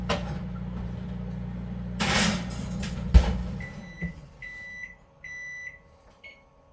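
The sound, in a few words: setting a kitchen timer with beeps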